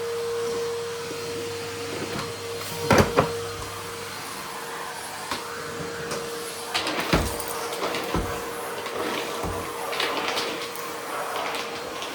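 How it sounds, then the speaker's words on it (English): A vacuum cleaner hums steadily at close range, with a few knocks and bumps as it moves, and no talking. "went to the effort of getting the vacuum cleaner out, might as well use it."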